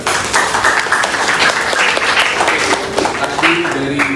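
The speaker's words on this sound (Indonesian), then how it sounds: "Beri aplaus buat Jessica" Classroom applause for a student at a teachers' coaching session, with steady clapping from a small group that lasts a few seconds, close and fairly loud.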